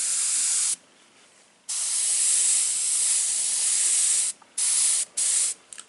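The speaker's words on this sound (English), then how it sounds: "go too far with the airbrush" An airbrush sprays paint onto a DIY copper hood in close, loud hissing bursts: a long spray, a brief pause, another long spray, then several short quick puffs.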